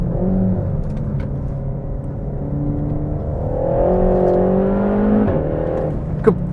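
A 300 bhp RenaultSport Megane Trophy on a race track, its engine droning steadily at close range with rising and falling pitch as the throttle eases on and off through a corner, with a short sharp knock near the end.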